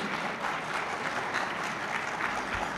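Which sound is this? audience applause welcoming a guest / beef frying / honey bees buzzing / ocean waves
audience applause welcoming a guest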